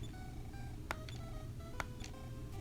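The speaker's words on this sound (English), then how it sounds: "And we're going to use that payphone." A payphone is dialed in the NES-era video game EarthBound Beginnings: a few short electronic dial beeps sound at irregular intervals over a steady, faint synthesized background.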